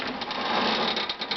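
A homemade pedal-powered grain mill with a millstone over a stainless steel container turns steadily, giving a continuous grinding, whirring rasp with faint rhythmic pulses.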